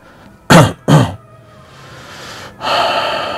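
A man gives two sharp coughs in quick succession, then clears his throat with a longer, rasping rumble, close and loud.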